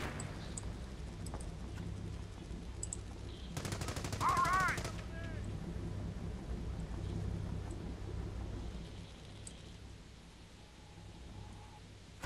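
Machine gun crew firing in Company of Heroes, heard as a dense, fairly steady rattle of automatic fire with a sharper burst in the middle, set against a constant low rumble of battle.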